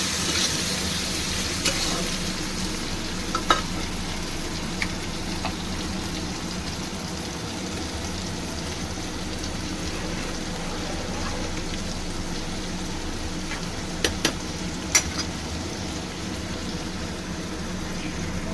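Chopped tomato sizzling in a hot pan for a vegetarian aloo dum, a steady soft frying hiss that runs throughout with a few faint clinks.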